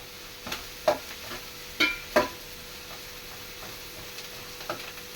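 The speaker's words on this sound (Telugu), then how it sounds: "ఆనియన్స్ మగ్గనిద్దాం ముందు" Onions sauté in a pan for chicken curry with a faint sizzle, broken by a few sharp scrapes and taps of a spoon on the pan at uneven gaps.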